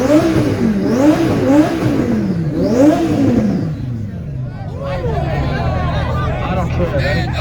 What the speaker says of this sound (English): Lamborghini, go!